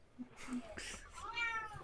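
A cat meows once, close and clear, near the end of a short stretch of low room noise and faint voices.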